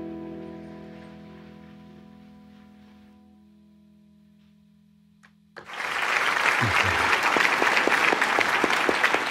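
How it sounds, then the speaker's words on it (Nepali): At a televised poetry competition, a soft, fading tonal passage gives way to sudden, loud applause for poet Anuj Shahi: a full audience clapping vigorously and continuously through the final seconds. "जोरदार ताली जारी रहोस् उहाँको लागि"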